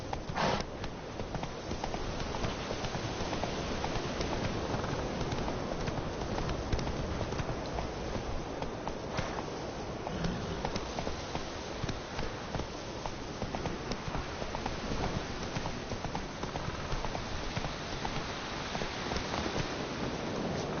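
Steady, continuous clip-clop of horse hooves in a PS4 video game, an even trotting rhythm at moderate distance with faint rustling, no talk over it.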